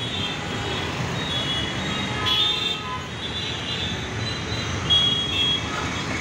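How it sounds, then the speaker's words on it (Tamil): Vehicles pass by on the road outside with a continuous rushing drone of traffic, swelling slightly as something goes by, heard from a distance with no voices. "பார்த்தீங்களா, வெளியே போகிற வண்டிங்க எப்படி போகுது பார்த்தீங்களா?"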